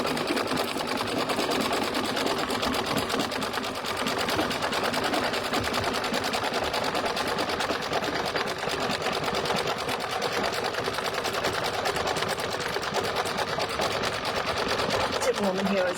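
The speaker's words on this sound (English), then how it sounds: "The next thing it's going to do is the satin stitching around the body" An embroidery sewing machine satin-stitches the body of a spider design on a Halloween coaster, giving a steady, fast mechanical rattle that runs unbroken and close for the whole stretch.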